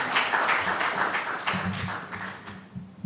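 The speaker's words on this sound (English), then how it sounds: "A clap for Mark." An audience at an innovation and technology panel event claps for a speaker: a burst of mixed, moderately loud applause that thins and fades over about three seconds.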